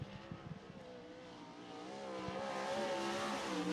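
A 360 sprint car on a qualifying lap at Cottage Grove Speedway, its engine revving and climbing in pitch as it passes, loud and close with a rising roar.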